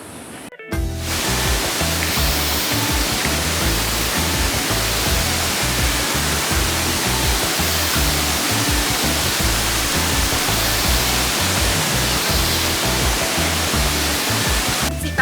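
A waterfall in Costa Rica roars in a loud, continuous broadband rush, steady and close for the whole stretch after a brief quiet start, with no voices.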